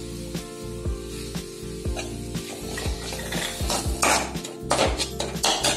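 A spatula scrapes and stirs tomato-onion masala in a pan for paratha filling, making a series of rhythmic metallic strokes over a soft sizzle. The strokes get busier and louder toward the end, and no one speaks.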